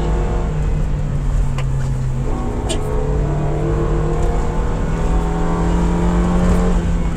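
A 2023 Toyota Rush GR Sport engine pulls hard in second gear at full throttle, its loud, steady drone rising slowly in pitch over several seconds as heard from inside the cabin.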